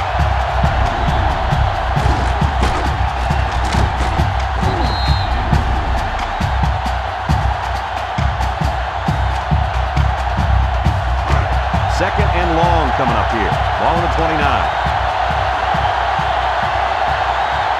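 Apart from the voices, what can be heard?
stadium crowd cheering in NCAA Football 2005 video game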